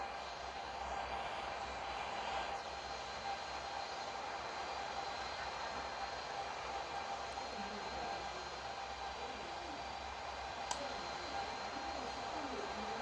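Simulated airplane engine at full throttle during takeoff in the Infinite Flight game, a steady broadband roar that holds constant and fairly loud throughout, with no talk.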